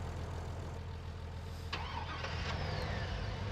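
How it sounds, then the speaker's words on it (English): A diesel truck engine in Farming Simulator 19 cranks and settles into a steady, loud, rumbling idle, with small clicks and tones from the game layered over it. "The old loud diesel."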